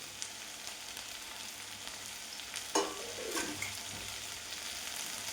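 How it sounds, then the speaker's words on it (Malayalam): Okra is tossed into a hot pan with a little salt and turmeric and starts to sizzle, a steady frying hiss with a sudden sharper burst of crackle partway through as the pieces hit the oil. "അതിനകത്തേക്ക് ഞാൻ ഈ വെണ്ടക്കായ ഇട്ട് കൊടുക്കുകയാണ്."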